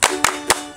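Three sharp, separate claps spaced about a quarter second apart, close and loud, from children keeping rhythm in a clapping game at a children's church service, over a faint steady hum.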